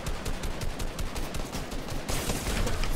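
Enemy gunfire in a shooter video game: rapid, dense automatic bursts crackle continuously and loudly throughout, with a heavier wash of shots in the final second and no talking.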